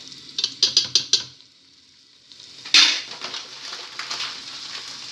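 A spoon scrapes and stirs butter and flour roux in a pan for lasagne: a quick burst of four sharp scraping strokes, a pause, then a stronger scrape followed by softer repeated stirring and faint sizzle.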